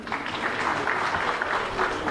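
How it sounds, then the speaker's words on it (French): Steady, dense applause from a large crowd at the opening ceremony of the Saint-Louis Jazz Festival, a continuous even wash of clapping filling the space without pause. "des applaudissements aussi pour le Royaume-Uni,"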